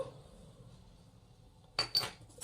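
Tiny miniature kitchen utensils, small serving spoons among them, clink together as they are handled: faint near-silence broken by a few sharp, close metallic chinks near the end.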